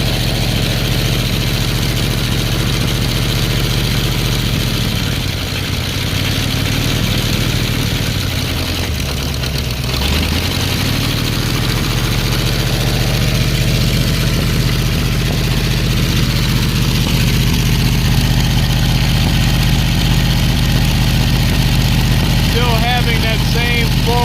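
A Ford 351W V8 engine with C4 transmission idles on a ground test stand while warming up, a loud, continuous low rumble close by, briefly dipping in pitch midway before steadying again.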